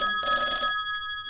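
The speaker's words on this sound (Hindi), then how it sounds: "जी हाँ, ये है टेलीफोन।" A telephone rings with a short, bright, trilling burst that fades out within about a second, clear and alone.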